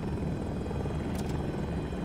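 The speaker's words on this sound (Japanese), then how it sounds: "あの右側の方になんか謎のヘリいるんだよね" A helicopter in Battlefield 2042 gives off a steady, loud rotor thrum that continues unbroken throughout.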